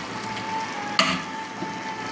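A pot of mushroom gravy bubbles and sizzles steadily, with a brief clunk partway through as something stirs or knocks the pot.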